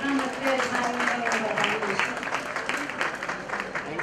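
Audience at a Navratri festival celebration for the Shree Kanakeshwari family gives the hosts a steady round of applause, a dense wash of clapping that holds throughout and fades slightly toward the end, with a voice faintly audible beneath.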